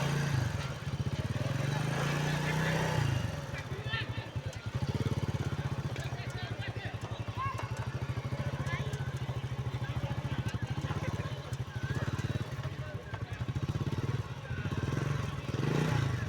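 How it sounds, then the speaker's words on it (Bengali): A motorcycle ridden by a young boy in Sreemangal, Bangladesh, runs steadily throughout, a continuous low drone with some clattering, while voices talk faintly over it. "হ্যাঁ চলছে মারুফ রহমানের বাইক"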